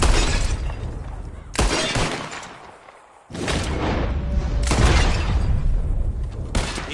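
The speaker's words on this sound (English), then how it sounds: "Whoever shoots more of these bottles wins." Gunshots shattering glass bottles during a shooting contest in Red Dead Redemption 2, loud bursts of fire and breaking glass in several clusters with a short pause between, and a brief spoken word.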